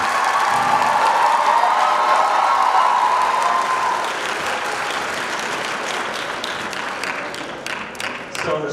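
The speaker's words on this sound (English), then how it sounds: "Please give a round of applause to them." A high school audience at Montgomery High School's Sensasian showcase applauds student performers, a full sustained burst of clapping with some cheering early on, thinning into scattered claps toward the end.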